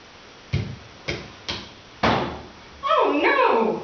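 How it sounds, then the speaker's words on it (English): Three sharp knocks on a door, then a heavier thump and a longer creaking, scraping sound as the door is opened, close and fairly loud with no talk. "It's the door."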